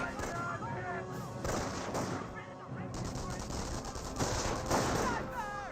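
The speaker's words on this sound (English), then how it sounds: "More sniper shots there." In the video game Company of Heroes, a battle carries on with sniper shots and bursts of gunfire and artillery. The shots are dense and steady, with a commentator's voice running over them throughout.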